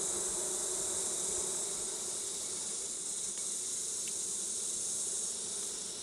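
A continuous close drone of honey bees swarming over an open hive's frames, even and unbroken throughout, with no voices.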